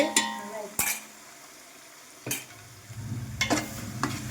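Green chili paste stirred into wheat khichdo cooking in a pot, giving a few sharp utensil scrapes and knocks over a soft sizzling bed that grows busier toward the end, close and fairly quiet, with no talking.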